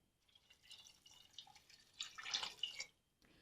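Water poured from a cup onto four cups of frozen huckleberries in a pot, a soft splashing trickle that builds and peaks near the end, quiet and close with no talking.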